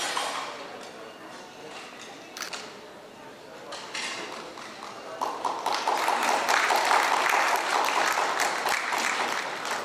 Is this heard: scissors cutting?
no